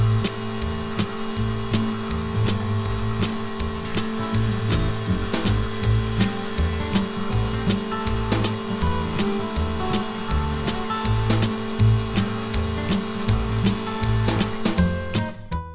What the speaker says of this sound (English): So I'm going to fix that by feeding this through the thicknesser.